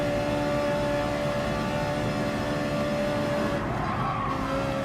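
Race cars in Gran Turismo Sport, among them a Ferrari 458 Italia Gr.4, a Scirocco and a Megane Gr.4, roar loudly and steadily at high revs with a sustained engine whine and a brief tyre squeal near the end.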